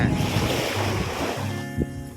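Sea waves at Jomtien beach in Pattaya, Thailand, heard as a steady broadband wash of surf with wind noise across the microphone, near and continuous, plus a brief low thump near the end.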